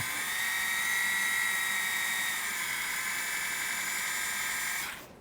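A high-pitched drill whines steadily for about five seconds while working on a Mini 4WD rear stay, close and loud, then spins down and stops.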